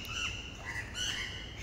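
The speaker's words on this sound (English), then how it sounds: "Shut up, birds." Birds squawk outdoors, a couple of short harsh calls rising over a steady background hiss, moderately distant and heard without talk.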